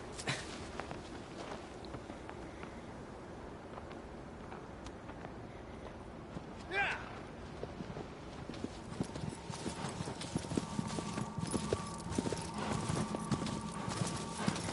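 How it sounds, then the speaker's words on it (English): A horse walking in the video game Shadow of the Colossus, its steady clip-clop hoofbeats plodding at an even pace over a low ambient game backdrop, growing a little busier toward the end. "My horse is just randomly walking away."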